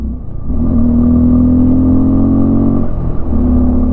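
A motorcycle engine labours in third gear up the steep climb of Shinkula Pass at about 16,500 feet, a loud, close, steady droning hum with a strained tone that briefly dips and then returns.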